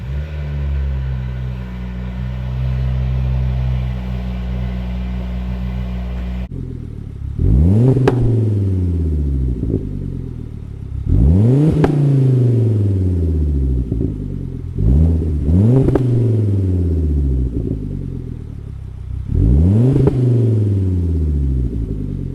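A Volvo T5 rally car engine with a resonator exhaust idles with a deep burble, then revs sharply several times in a row, each rev swelling and falling back, loud and near.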